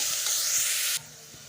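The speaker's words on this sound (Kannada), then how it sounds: "ಈ ಟೊಮೆಟೊ ಹಾಕ್ತೀನಿ ನೋಡಿ ಹಿಂಗೆ ಕಲಿಸ್ಬೇಕು" Tomatoes being stirred into pulao in a hot oiled pan give a steady bright sizzle that cuts off abruptly partway, leaving a quieter hiss and faint scraping, with no voices.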